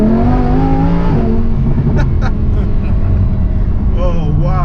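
Engine of a Lamborghini Huracan heard from inside the car, droning loudly, with rising pitch sweeps as it accelerates through gears, steady and close throughout.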